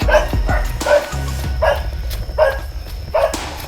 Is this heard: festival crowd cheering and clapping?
no